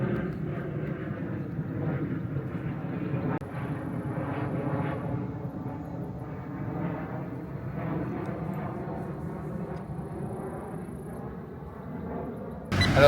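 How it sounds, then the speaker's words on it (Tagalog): An airplane passes overhead near a park, a steady broad engine roar that holds throughout at moderate loudness, with no talk over it. "Dito din dumadaan yung mga aeroplano guys."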